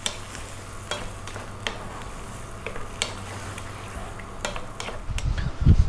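A sausage and lentil stew with hand-crushed canned tomatoes simmers in a pan, giving a soft continuous sizzle and bubbling, with a few light stirring scrapes and a louder clatter of the pan at the end.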